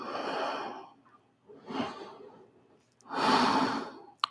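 Deep breathing held in a child's pose yoga stretch, three drawn-out breaths, close and soft, each swelling and fading with quiet gaps between and a faint tap at the end; nobody talks.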